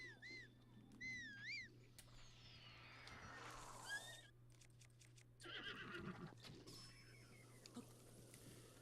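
Horse neighs and whinnies from The Legend of Zelda: Breath of the Wild, several rising-falling calls spread across the scene over a steady game hum, with clip-clopping hooves and rustling effects mixed in.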